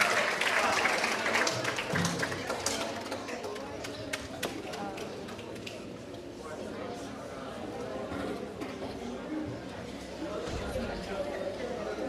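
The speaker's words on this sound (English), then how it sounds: "So let's give them a big round of applause." Audience clapping at a high school graduation ceremony, a steady wash of applause at moderate distance that lasts throughout, with crowd chatter and voices underneath.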